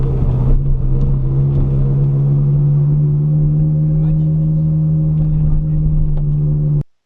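A Ferrari drives through a village near Maranello with a steady, loud, low engine drone from inside the car, holding an even tone for several seconds before cutting off abruptly.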